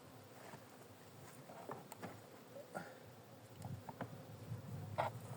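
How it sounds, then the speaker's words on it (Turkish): Honeybees buzzing around a hive in January, a steady low hum with occasional louder passes close by, faint and continuous throughout. "Hani şu mevsimde biraz agresifler arılar"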